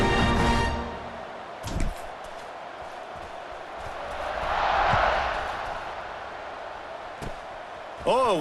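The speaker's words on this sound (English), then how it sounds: "this crowd is buzzing after that last score" Stadium crowd buzzing after a score in the college football video game EA Sports College Football 26, a broad murmur that swells midway, with a commentator's voice talking over it.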